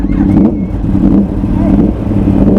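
A Yamaha R1 sport bike engine running loud and close, a steady rumbling drone with slight revving, while people talk over it.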